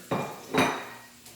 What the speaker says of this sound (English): So we'll throw those in right on top of the melted butter.